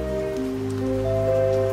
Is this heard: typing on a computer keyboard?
no